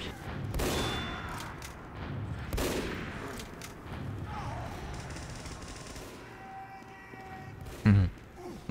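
Bursts of rapid gunfire crackle in a sniper-focused shooter game, with a couple of heavy booms and a quieter stretch between volleys, ending in a loud thump.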